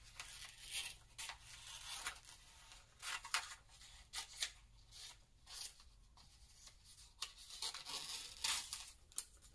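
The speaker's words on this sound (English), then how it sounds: "pull out a magazine and cut some collage pieces" Scissors cutting collage pieces out of a glossy magazine, with a string of crisp snips and paper rustles in an irregular rhythm, close up and fairly quiet, no talking.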